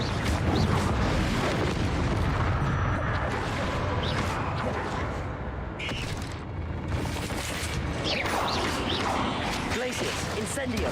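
Confringo fire spell blasts in the Hogwarts Legacy video game come as a dense run of booming, crackling explosions and crashes. Loud impacts overlap throughout.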